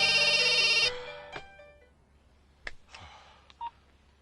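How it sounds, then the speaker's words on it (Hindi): A telephone rings on a call that goes unanswered, a loud electronic ring tone for about a second, then faint scattered clicks and short tones in a quiet room. "फोन नहीं उठा रहा यार।"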